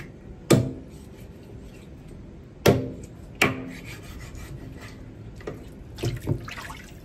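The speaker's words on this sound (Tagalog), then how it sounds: "Ganyan, hiwain muna." A knife slices through food on a cutting board in a home kitchen, with three sharp, close strokes spaced a second or two apart, followed by a few softer cuts and light scraping.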